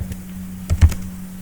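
Short burst of computer keyboard typing while entering an SQL statement, a few close, crisp key clicks over a steady low electrical hum.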